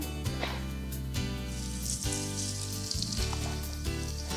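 Red tuna searing in hot olive oil in a pan, a steady close sizzle and crackle with occasional louder spits and stirring noises, continuing throughout without talk.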